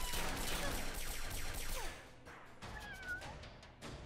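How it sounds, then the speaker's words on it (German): A cat meows in the video game Fallout Shelter, a few short mewing calls rising over a busy burst of game noise and gunfire that then drops away. "Die Katze ist einfach zu cool."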